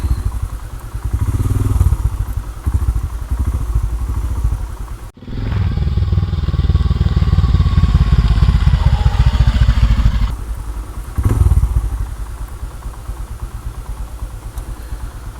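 A motorcycle riding along a road near Bhatghar dam backwaters outside Pune, its engine loud and close with a steady rumbling drone, briefly cutting out, then surging back and easing off toward the end.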